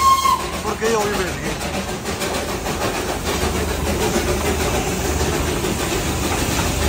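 Darjeeling toy train hauled by a heritage steam engine, a steady, close rumble and rattle of the carriages that carries on without a break, with faint voices in the background.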